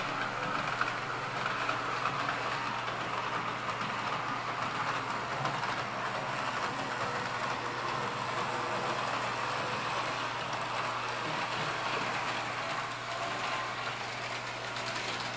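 A small S-gauge model train rumbles steadily along its track, a continuous close whirring and clatter with no pauses.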